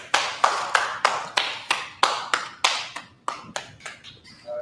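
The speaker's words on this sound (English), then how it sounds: "All right, clap it up." A class claps in a steady rhythm, about a dozen crisp, evenly spaced claps, each with a short fading ring, growing slightly quicker and softer toward the end.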